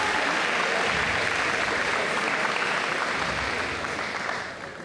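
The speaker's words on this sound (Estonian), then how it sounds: "Aplaus." A crowd claps steadily at a ball's host and hostess contest, a dense, sustained applause that holds loud throughout and tapers slightly at the end.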